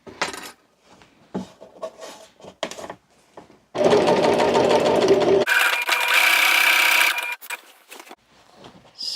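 A sewing machine stitches a fabric basket liner in two bursts of rapid mechanical whirring, the second faster and higher, between quieter clicks and handling of the cloth.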